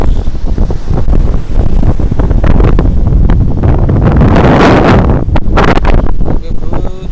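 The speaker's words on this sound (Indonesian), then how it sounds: "cuaca tidak mendukung, anginnya kencang sekali." Strong wind buffets the microphone during a fishing trip, a constant loud roar of gusts with faint water sounds beneath it.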